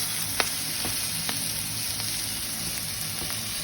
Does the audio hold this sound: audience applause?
no